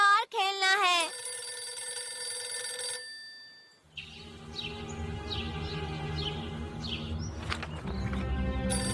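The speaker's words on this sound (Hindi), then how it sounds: "डोरा फोन उठाओ।" A telephone bell rings at a house beside a pool where a child plays in the water, the ringing coming in repeated bursts among bird chirps and outdoor noise, while people talk.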